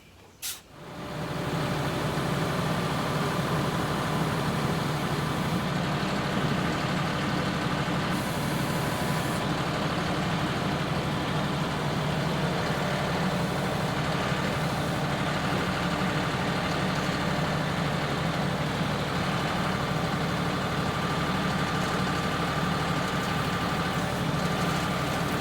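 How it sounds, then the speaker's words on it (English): Tractor engine idling steadily in a backyard, a low continuous rumble that starts abruptly and holds at an even level for the whole stretch with no talk. "Okay, so you saw there, I had the tractor"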